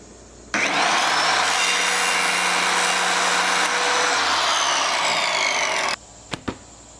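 Power cutter taking half an inch off an arrow shaft, a loud continuous whining grind lasting about five seconds, then stopping abruptly, followed by two brief sharp clicks, close with no talk.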